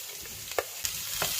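Potatoes and freshly chopped onions frying in a pan: a steady close sizzle broken by a few quick stirring scrapes.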